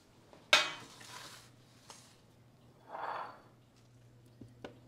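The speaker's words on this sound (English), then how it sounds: "I'm going to be setting this on a shiny baking sheet" A pie crust set down on a shiny metal baking sheet gives one sharp clatter near the start, then a few softer knocks and scrapes over a low steady hum, ending with a small tap.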